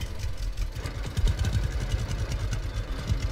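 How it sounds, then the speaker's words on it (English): A tractor engine idles steadily in Lumberjack's Dynasty, a low, throbbing rumble with faint rhythmic knocking that holds at an even level throughout. "We'll hop in this tractor."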